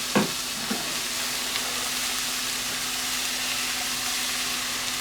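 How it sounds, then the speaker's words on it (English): Vegetables tipped into a hot skillet holding a little oil from pork set off a brief clatter at the start, then a dense, even sizzling hiss that carries on steadily over a faint low hum. "All the vegetation, we're going to dump it right into the pan here."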